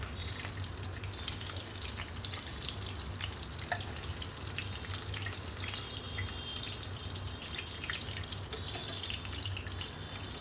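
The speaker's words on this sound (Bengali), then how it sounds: "একদম এপিট ওপিট হালকা করে ভেজে নেব, কড়া করে ভাজবো না।" Fish fries lightly in oil in a pan, giving a faint, soft crackle and scattered sizzling pops over a quiet, steady hiss.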